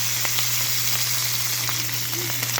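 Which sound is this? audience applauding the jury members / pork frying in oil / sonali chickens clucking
pork frying in oil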